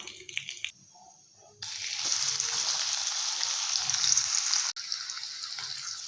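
Chopped onion drops into a pan of hot oil with cumin seeds, and a loud, steady sizzle suddenly swells and holds. The sound is close, with a few faint clatters before it and no talking.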